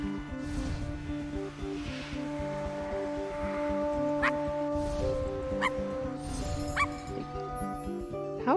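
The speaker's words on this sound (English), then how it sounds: "Just gotta bark to scare them out, you know?" A dog in the video game I Am Dead gives a few short, sharp barks spaced several seconds apart over a layered, steady musical game soundtrack, with the barks fairly clear but not loud.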